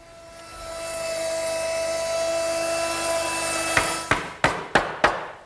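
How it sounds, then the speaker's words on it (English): A router fitted with a 1/2-inch round-over bit whines at a steady high pitch while shaping the edge of a wooden 2x4 top rail for a garden bench, then cuts off and is followed by five sharp knocks. "I just want to round over the top of this top rail along the back, and the only thing I need to do that is a 1/2-inch round over bit set up in my router"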